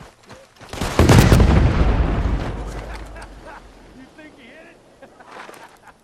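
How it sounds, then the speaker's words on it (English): A loud explosion erupts in the Red Dead Redemption 2 video game, a heavy boom with a long rumbling decay that fades over several seconds, followed by quieter distant crackles and a fainter blast near the end. "I don't know what all the explosions are."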